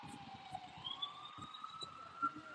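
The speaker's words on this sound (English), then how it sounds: "And hopefully you're hearing the sirens, so you really do feel like you're part of the city." Emergency sirens wail along a New York City street during the holiday season, a rising and falling tone heard from a moderate distance over soft city traffic and footsteps, with no voices.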